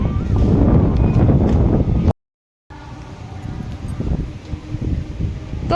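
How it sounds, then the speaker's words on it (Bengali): Strong stormy wind blows on a rainy day, buffeting the microphone with a loud, gusty roar that cuts out briefly midway, then returns a little softer and more uneven. "হাওয়া দিচ্ছে ঝড়ের মতো"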